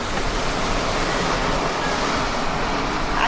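Steady broadband roar of sea waves and surf on arrival at the ocean shore, a continuous wash of breaking water with no clear individual crashes, fairly loud and constant throughout.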